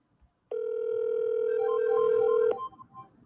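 A steady telephone dial tone starts abruptly, holds loud and unbroken for about two seconds, then cuts off, with faint noise before and after.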